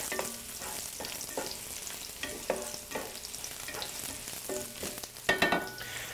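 Garlic sizzling in a pan for a paleo pork and pineapple stir fry, a soft, constant frying hiss broken by quiet scrapes and clinks of stirring, with one louder clatter near the end.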